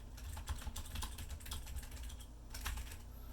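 Typing on a Kinesis Freestyle 2 ergonomic keyboard for Mac, a split board that sits a little wobbly: a steady run of close, soft key clicks and taps in an uneven rhythm, with no talking.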